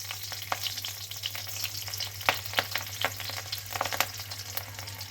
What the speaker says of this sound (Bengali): ফোড়নে দেবো এবার কালো জিরে, আর দেবো দুটো শুকনো লঙ্কা।